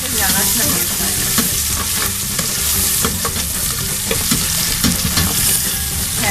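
Onion, cumin, salt and bay leaf fry in hot oil for moong dal khichdi, a steady loud sizzle with stirring scrapes throughout and no voices.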